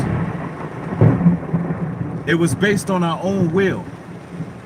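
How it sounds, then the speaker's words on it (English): A low thunder rumble rolls in the background, with rain-like noise underneath, while someone speaks close by over it. "Y'all hear that thunder?"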